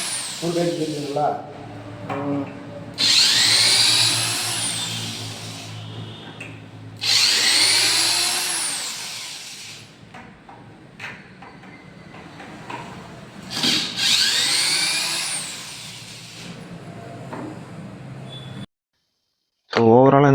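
A heavy duty electric drill machine whirs in three loud bursts, each spinning up and winding down, close by, with someone speaking between and over the runs.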